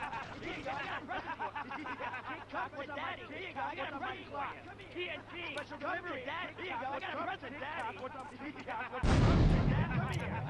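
Gunfire from the video game Grand Theft Auto III, a busy stretch of game noise with shots and blasts mixed into background babble, ending in a loud, sharp burst near the close.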